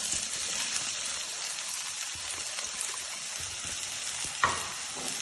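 Two finely chopped onions frying in hot oil in a pan, a steady close sizzle with light stirring and one brief scrape near the end, no talk.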